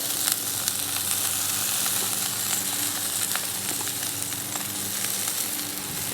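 Marinated alligator kebabs and asparagus sizzle on a grill with a steady, close frying crackle and a few sharp pops, and no one speaks.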